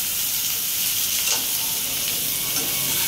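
Sliced potato and bitter gourd fry in a pan with a loud, constant sizzle close by, and a soft scrape of stirring can be heard now and then. No one speaks.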